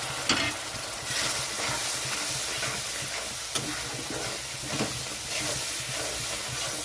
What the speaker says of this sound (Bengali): মশলাটা কষানোর জন্য অল্প পরিমাণে জল দিয়ে দিলাম